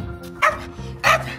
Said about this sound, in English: she gets excited before she goes out, so she likes to bark a lot